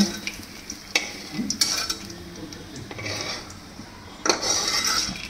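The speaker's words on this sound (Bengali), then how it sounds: "উচ্ছেটা একটু সময় লাগবে, ভেজে নিই।" Sliced bitter gourd fries in hot oil in a pan, a low sizzle broken by scraping stirs and sharp metallic clinks of a spatula against the pan, with no talk.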